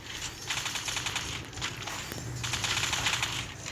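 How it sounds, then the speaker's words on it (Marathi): Rapid automatic gunfire from a mobile shooter game, fast clattering bursts in two main stretches with a brief break between, fairly quiet overall and with no talk over it. "ये बंदूकची फायर टाकतो ना अशी डायरेक्ट फायरिंगच करतो."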